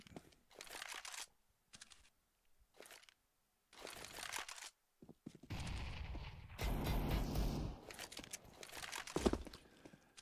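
Counter-Strike match on the map Cache, a rifle shot ringing out amid bursts of clicky in-game gunfire and crunchy effects, sharp transient hits scattered across the stretch with quiet gaps between.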